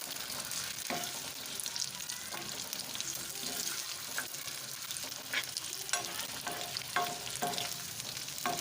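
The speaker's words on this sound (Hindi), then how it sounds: "तो ऑयल हमारा गर्म हो चुका है। अब इसमें हम अपने पटाटो ऐड करेंगे।" Potatoes frying in hot oil while being stirred, a continuous moderate sizzle broken by occasional scraping and clinks of a spoon on the pan.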